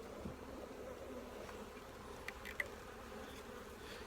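A caught honey bee swarm hums close by in a steady, continuous buzz, a few brief clicks and taps surfacing over the drone, with no voices.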